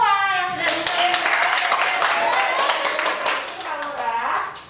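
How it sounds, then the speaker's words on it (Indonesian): Students in a classroom clap together, a burst of sharp, lively hand claps with children's and adult voices mixed in, fading slightly toward the end. "Berikan tepuk tangan untuk semua yang sudah bisa."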